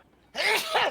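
A single sudden, loud sneeze bursts out close after a brief quiet moment.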